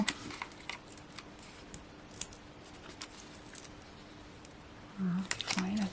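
Scissors snip through craft card from a Hunkydory Little Red Robin deluxe pad, a few soft close cuts near the end after quiet rustling of paper on a crafting table.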